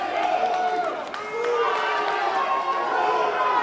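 Arena crowd at a pro wrestling match between Alex Kane and Jacob Fatu, a dense, steady roar of cheering and shouting with many voices, under commentators talking throughout.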